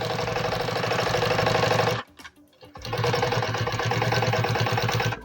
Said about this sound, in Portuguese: Vou começar minha costura com retrocesso